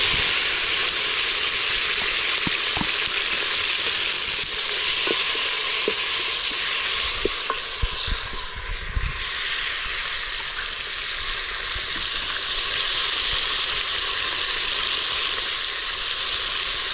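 Steady, loud sizzling of onions and tomatoes frying in a hot pan, a constant hiss with a few faint clinks and stirring sounds, no talking.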